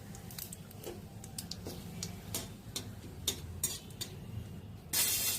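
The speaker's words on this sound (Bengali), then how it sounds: "আবার সামান্য তেলে একটু সাদা জিরে আর তেজপাতা ফোড়ন দিলাম" White cumin seeds and a bay leaf hit a little hot oil for tempering, giving sporadic sharp crackles and pops over a low steady sizzle, ending in a brief louder burst of hiss.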